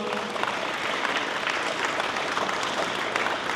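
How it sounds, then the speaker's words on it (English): Town hall audience in Gresham, Oregon applauding, a sustained even burst of many hands clapping throughout, fairly loud and with no speech over it. "Let's give her a round of applause"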